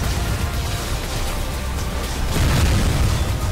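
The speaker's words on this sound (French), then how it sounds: "Oula, il y a eu de l'explosion à la chaîne." Chain explosions in the robot-battle game Robocraft, a dense, loud rumbling roar of overlapping booms that swells stronger toward the end, without speech.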